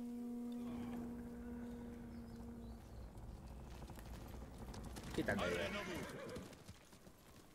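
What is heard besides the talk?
horse hooves in the video game Ghost of Tsushima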